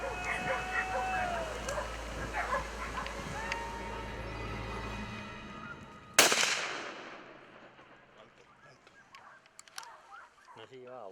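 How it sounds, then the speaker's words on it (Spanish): A single loud express rifle shot cracks out at a wild boar during a Spanish montería, followed by a fading echo, with dogs and birds calling beforehand. "Disparo rápido de Mariano que con su express ha conseguido hacer blanco en el cochino."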